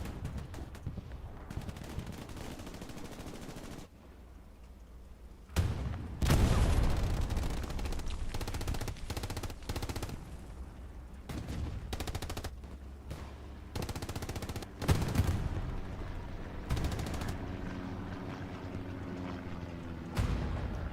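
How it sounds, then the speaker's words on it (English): Bombing run in the WWII shooter Hell Let Loose, a dense barrage of loud booming explosions and rattling gunfire, with bursts hitting in clusters and a brief lull before the blasts resume, no talk. "Bombing run coming in on the north."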